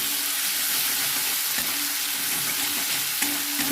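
Ginger and cumin paste sizzles steadily in a hot pan, a continuous close frying hiss with a few faint stirring scrapes and no voices.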